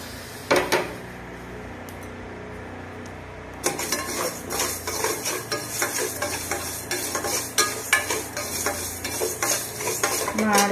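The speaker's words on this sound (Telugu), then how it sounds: "2 స్పూన్లు ఆవాలు, 1 స్పూన్ మెంతులు వేయించుకుందాము" Mustard seeds and fenugreek dry-roast in a pan on the stove. After a quiet start, a spoon scrapes and clinks against the metal in quick, repeated strokes over a faint crackle.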